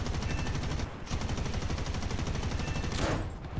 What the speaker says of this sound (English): I decided to use not just the rockets, but also the 20mm nose turret.